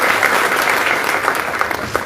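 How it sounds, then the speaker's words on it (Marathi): Women in the crowd at a political rally clap loudly, a dense continuous patter of applause with scattered sharper claps standing out near the end. "माझ्या लाडक्या बहिणींचे टाळ्या जास्त येत आहेत"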